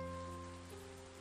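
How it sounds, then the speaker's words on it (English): Soft, even rain falls in a visual novel game, a faint steady patter lying under a low sustained hum, with no voices. "The rain becomes stronger."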